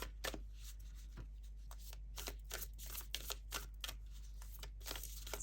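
Moon oracle cards being shuffled for a reading: a quiet run of soft, rapid riffling flicks and slaps repeating in short bursts, close and alone without any voice.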